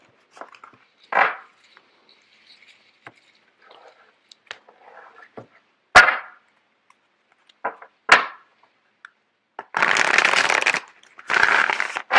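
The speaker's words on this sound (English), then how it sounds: "Just give me a second while I get the cards shuffled out." Tarot cards are shuffled and handled in sporadic bursts, with soft taps and flicks early on, then two longer riffling shuffles near the end, close and fairly loud.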